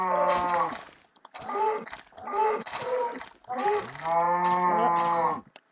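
Cows mooing in a Minecraft-style video game, four long drawn-out moos in a row, loud and close, with short gaps between them.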